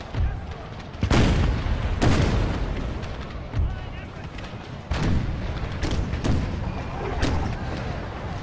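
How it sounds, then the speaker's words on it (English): Cannon artillery fire from the Empire Total War video game, set in an American Civil War battle, with several heavy booming shots at irregular intervals. Each blast rumbles into the next over a continuous battlefield din, and a voice talks underneath. "Have our cannons cover us as our units advance"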